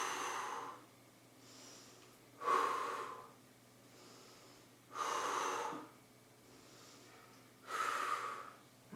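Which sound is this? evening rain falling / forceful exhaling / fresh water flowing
forceful exhaling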